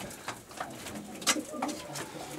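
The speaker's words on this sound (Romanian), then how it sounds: "Acest porumbel este un porumbel consacrat pe porumbei de Van Hasten" Racing pigeons coo softly in a loft, low throaty calls repeating at moderate distance, with faint talk and background noise around them.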